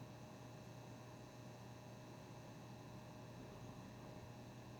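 A Nanlite Forza 60B II bi-color LED light runs its cooling fan, producing a faint, steady low hiss with a soft hum underneath, continuous and even with no voices.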